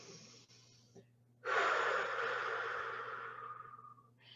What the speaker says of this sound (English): take a nice deep inhale and a clearing exhale. Breathe out forcefully.